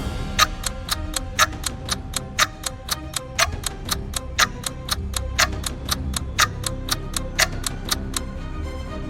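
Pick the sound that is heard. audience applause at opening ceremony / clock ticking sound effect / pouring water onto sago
clock ticking sound effect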